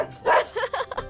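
A man mimics a dog barking with his voice, giving several short yipping barks in quick succession, close and clear.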